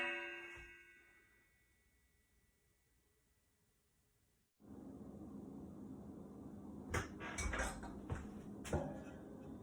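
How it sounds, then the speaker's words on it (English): A lid set onto a pot of hot process soap, a sharp metallic clank after a fading ring and near-silence, followed by a few more clattering knocks against low background noise. "We're going to put a lid on it"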